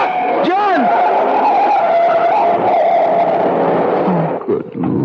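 A truck skids in a radio drama scene, a long loud tyre screech sweeping up and down over engine roar for several seconds, with shouted voices at the start before it cuts off.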